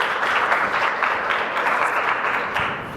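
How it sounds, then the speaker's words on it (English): A conference audience at an industry AI case-study session gives sustained applause for two presenters, a dense, even clapping that carries through the whole stretch and eases slightly at the end. "Let's give a big round of applause, please, again, for both of our presenters."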